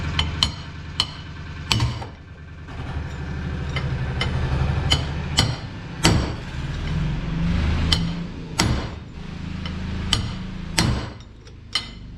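A hammer strikes axle wheel studs on a Yağmur 510 three-wheeled utility vehicle, a dozen or so sharp metallic blows at irregular intervals, loud and close over a low engine-like hum.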